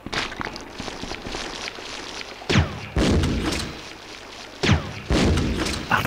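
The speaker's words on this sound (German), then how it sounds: "Irgendwas bricht hier, stürzt hier ein." In the Resident Evil 3 game, something breaks and collapses with a series of heavy thuds and crashing booms over a constant rumbling background, three sharp impacts standing out at regular intervals.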